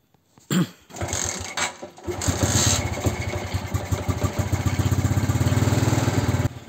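A small motorcycle engine, under electrical repair, coughs and sputters to life after a couple of bumps, then settles into a steady, fast, close idle putter before cutting out.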